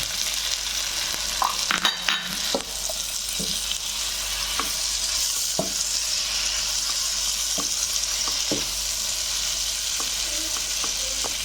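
Shrimp added to a pan of oil with potato, jackfruit seeds and tomato: a loud, continuous close sizzle, broken by repeated scraping and clinking strokes of a stirring utensil, with no talk.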